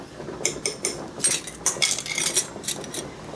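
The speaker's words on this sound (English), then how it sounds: "I need to add my 1/4 teaspoon of this crisper stuff." Metal teaspoon adding pickle crisper into a glass jar during canning, a quick series of light clinks and taps against the glass, close and crisp.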